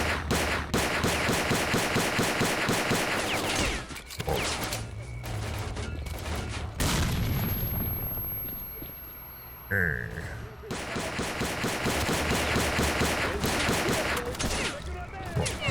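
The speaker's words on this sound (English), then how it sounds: "That's all my pistol shots." Pistol fire in STALKER: Clear Sky, dense volleys of close, loud gunshots running through much of the stretch, broken by a few brief lulls and a quieter passage in the middle, with game noise and music underneath.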